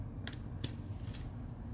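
A few faint, crisp metallic clicks and taps of small scissor blades closing and touching as they pick up small gems, spaced irregularly over a quiet low hum.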